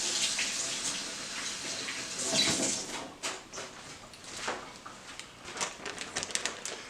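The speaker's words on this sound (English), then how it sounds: "So always washing your hands every time." Tap water running from a faucet while hands are washed in a kitchen, a steady splashing stream at first that breaks into uneven splashes and clatter as it stops.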